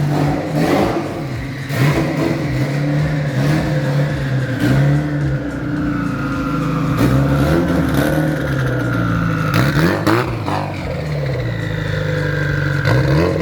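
A Mitsubishi Evo 8 with a misfire problem revs hard and continuously, its engine note climbing and falling through repeated acceleration surges, loud and close throughout.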